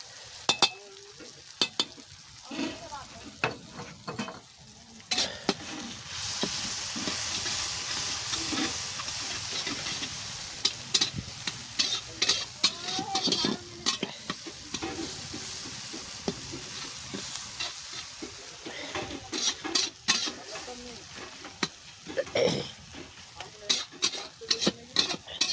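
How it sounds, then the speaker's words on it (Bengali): Onion and crushed garlic frying in oil in a pan while a spatula stirs them, a continuous sizzle broken by frequent scraping clicks and knocks against the pan, closer and busier near the start and end. "এখানে আমার পেঁয়াজ রসুন ভাজা হয়ে গেছে"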